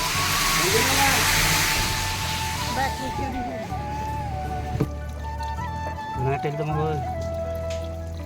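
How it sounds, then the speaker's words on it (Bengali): Water rushing out of a newly fitted water tank, a loud steady hiss of flow that fades after a few seconds into trickling, with a person talking nearby. "পানি ছাড়ি দিয়েছি দেখেন"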